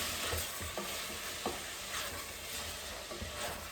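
Kale, chickpeas and Parmesan are stirred in a pot on the stove, giving a continuous sizzle with scattered soft scrapes and knocks of the spoon, close and steady, with no talking.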